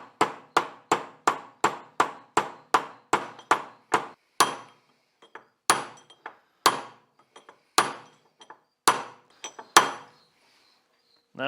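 Hammer tapping parts into a 1973 Larson Mercruiser 120hp engine: a fast regular run of sharp metallic taps, then slower, spaced single strikes with small gaps, close and clear, no talk.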